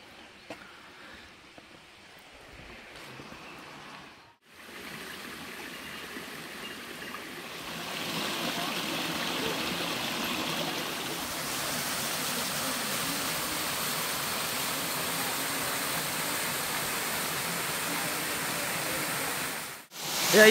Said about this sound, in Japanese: 素晴らしい滝ですよ。